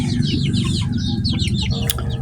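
Chickens cluck in a small country-style coop, a steady stream of close, overlapping clucks and chatter over a constant low rumble, with a brief sharp squawk near the end.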